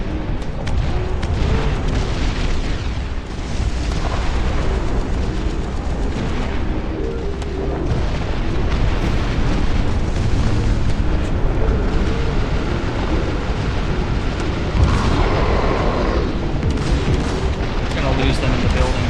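Incendiary bombs strike in the Dust Front RTS video game, a dense, continuous wall of loud booming explosions and artillery-like rumble lasting throughout, with bursts layered over one another and voices mixed into the din.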